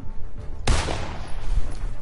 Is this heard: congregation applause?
no